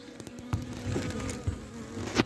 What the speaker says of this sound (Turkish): bir avuç da orada arı var